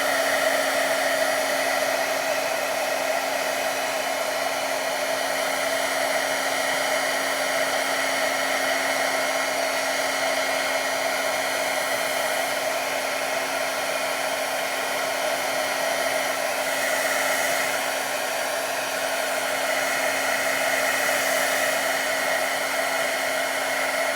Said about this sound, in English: let's bring it to the heat gun.